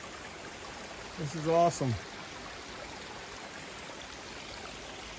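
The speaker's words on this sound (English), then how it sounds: "Look at the water in the creeks." A creek on the Appalachian Trail flows in a steady, moderate hiss of running water, with someone briefly speaking partway through.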